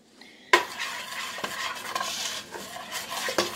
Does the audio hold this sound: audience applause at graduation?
no